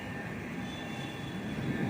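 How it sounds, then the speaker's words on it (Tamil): An airplane drones overhead as a steady, low rumble, faint and continuous, with no talking. "அந்த ஏர்பிளேன் போகுது இல்லையா"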